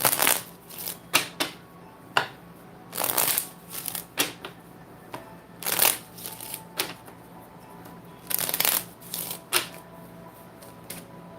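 Tarot cards are shuffled and drawn close up, with repeated crisp riffling bursts and snapping flicks separated by brief pauses.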